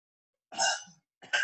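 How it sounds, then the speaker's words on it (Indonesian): A single explosive cough bursts out up close, followed a moment later by a second short cough. "Maaf saya batuk dan bukan COVID ya"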